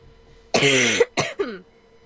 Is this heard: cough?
yes